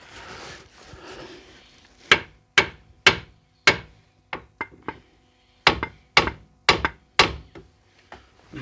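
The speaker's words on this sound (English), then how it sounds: "Might need to give it a tap here with a hammer to try and pop the ball joint out." Sharp metallic hammer taps on a ball joint of a Ford Mondeo Mk3 ST220 ring out in two bursts, a quick run of four or five strikes, a pause, then another cluster of four, close and loud.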